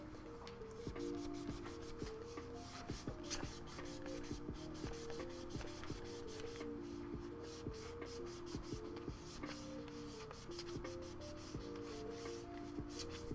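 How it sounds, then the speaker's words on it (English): Marker is scrubbed off a surface with a continuous rough rubbing and scratching, fast back-and-forth strokes running steadily throughout at close range. "I'm scrubbing it off. Gotta try and get that marker off."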